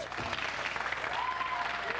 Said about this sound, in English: Now, why would you applaud that?